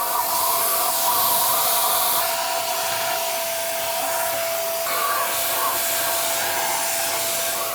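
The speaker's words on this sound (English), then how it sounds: "So plug this in and vacuum that up top first." A vacuum cleaner runs continuously while cleaning a Harman P Series pellet stove, a loud steady hissing whine with a constant tone that shifts slightly as the nozzle moves.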